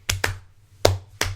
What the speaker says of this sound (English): Someone slow clap for me.